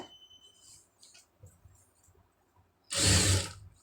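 A sewing machine stitches blouse fabric for a neckline with a cross piece: faint scattered mechanical clicks, then a short, loud whirring burst of stitching close by.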